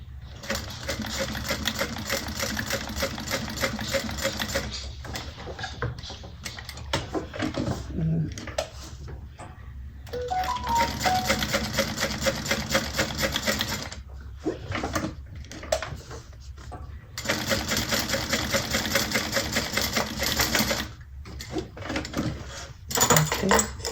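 Sewing machine running in bursts while top stitching across a fabric flap for a Hattie project, steady mechanical stitching broken by short pauses, close and fairly loud, with a few brief clicks between runs.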